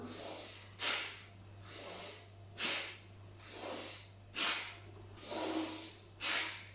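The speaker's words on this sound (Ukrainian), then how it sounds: "тут у нас йде різкий вдох і різкий видих" Bhastrika pranayama breathing sounds close and quiet, made of rhythmic pairs of sharp forceful inhales and exhales, roughly two strokes per second, each like a hissing snort through the nose, over a low steady hum.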